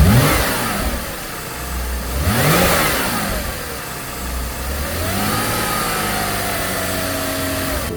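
A 2012 Porsche Cayman 987.2 engine, just fitted with a new accessory belt, tensioner and pulley, is revved in a few smooth rising and falling swells, loud and close, then settles into a steady idle.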